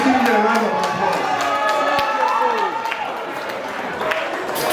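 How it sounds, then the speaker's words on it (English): Crowd at a wedding after-party breaks into applause and cheering, a dense wash of clapping that swells at first and then gradually thins out. "Please give me a round of applause."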